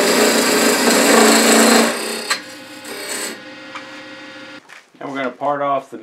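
A wide parting tool cuts tenons into wood on a lathe, giving a loud rough scraping hiss for about two seconds that fades into quieter spinning and tool contact, and a voice speaks near the end.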